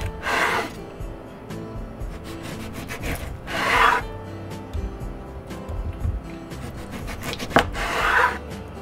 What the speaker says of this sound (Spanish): lo vamos a cortar en rodajas